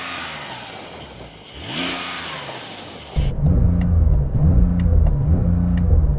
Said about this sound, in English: Let's have a listen to your Porsche.